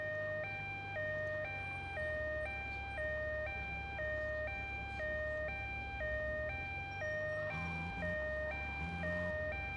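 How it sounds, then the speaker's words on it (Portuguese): An ambulance siren in the PS2 game GTA Vice City Stories wails in a steady two-tone cycle, alternating high and low pitches, with some engine and traffic noise underneath. "É a ambulância, né?"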